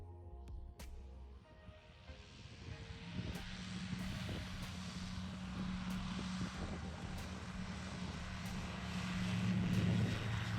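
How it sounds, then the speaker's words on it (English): A small airplane taking off from runway 9 at a STOL fly-in, its propeller engine droning and building steadily louder over ten seconds, heard from inside or close by. "And this takeoff on 9"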